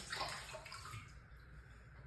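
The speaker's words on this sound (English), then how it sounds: "And now I rinse it again." Running water pours and splashes steadily as a washcloth is rinsed, a strong broadband rush at first that eases slightly but keeps flowing throughout, close and continuous with no voices.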